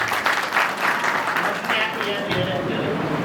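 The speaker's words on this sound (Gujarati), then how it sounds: "જોરદાર તાળીઓ." An audience claps together at a community gathering, a Vishwakarma Dodiya reunion held in Chotila, producing dense, sustained applause up close, with some voices mixed into the crowd noise.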